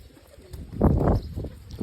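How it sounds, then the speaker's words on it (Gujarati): A pigeon gives a brief, near, throaty coo in the middle of a short stretch, with soft rustling and faint background noise around it. "કબૂતર રખડે છે બધા."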